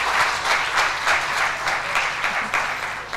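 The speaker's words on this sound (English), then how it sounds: "Can we have a round of applause?" Audience applause at a health profession education event, a dense wash of many hands clapping steadily and fairly close for the whole stretch, with no voices over it.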